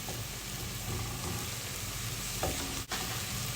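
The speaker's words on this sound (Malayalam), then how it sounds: "നല്ലൊരു ഗോൾഡൻ ബ്രൗൺ കളർ ആവുന്നത് വരെ വഴറ്റിയെടുക്കാം" Ingredients for a coconut crab roast fry in a pan with a steady, close sizzle and occasional stirring scrapes. A single clunk sounds near the end.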